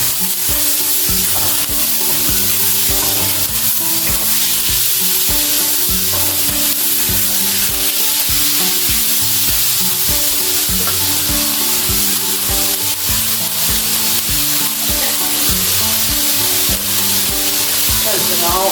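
A pan of bell peppers, chili and tomato fries with a continuous loud sizzle, alongside steady stirring and scraping, close throughout with music underneath and no clear speech.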